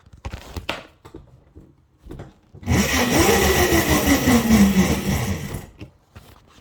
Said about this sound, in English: I'm trying to power a 36 volt, 800 watt motor. So it works like this. Let me spin it up.